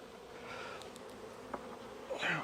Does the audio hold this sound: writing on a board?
no